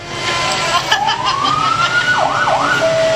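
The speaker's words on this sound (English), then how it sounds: "CAL FIRE today joins us with engine 2260." CAL FIRE engine 2260 from the Susanville station sounds its siren while rolling in a county fair parade, a loud rising wail that turns into fast yelping sweeps over steady crowd and street noise.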